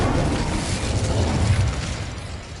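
Incendio fire spell cast in the video game Hogwarts Legacy, a loud, dense whooshing burst of flame that roars for a couple of seconds and then tapers slightly.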